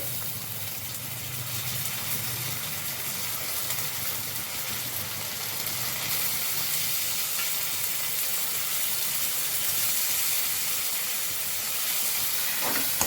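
Dried fish frying with onions and green chillies in a pan gives off a steady, dense sizzle and hiss that holds at an even level throughout.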